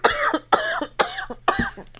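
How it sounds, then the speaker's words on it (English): Four sharp, close coughs at a steady, even pace, each a loud burst that quickly dies away, with no speech around them. "You can't just cough in the middle of recording"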